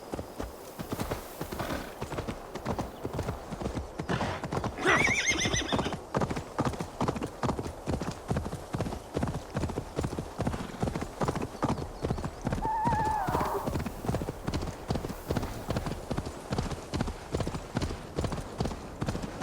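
Horse in the video game Assassin's Creed Valhalla, rapid rhythmic hoofbeats galloping steadily throughout, with two loud neighs rising above the clip-clop, and a voice briefly under it.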